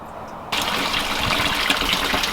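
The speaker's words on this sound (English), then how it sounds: "looking at the waterfall again in closer detail" After a brief quiet moment, a garden pond waterfall suddenly gushes and splashes continuously into the pond, a full rushing pour close by.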